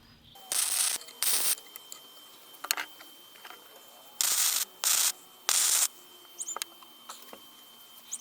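Tack welding a broken steel drill vice, several short crackling bursts of arc welding, each about a third of a second, spaced apart with quiet shop noise between.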